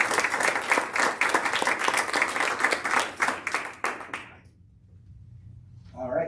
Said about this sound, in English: I'd like to just ask everyone to join in a round of applause